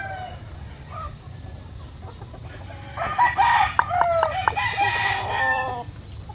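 Asil gamecock rooster crowing loudly and close, a long harsh crow in the second half after softer clucks, over a steady low farmyard rumble.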